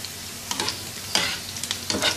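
Sliced onion fries in a few spoonfuls of oil on a tawa, giving a close, steady sizzle with scattered bursts of crackling and spatter.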